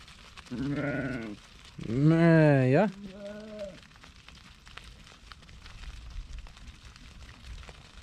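A lamb bleats three times nearby: a short bleat, a louder wavering one, then a brief weaker cry, followed by quiet background noise.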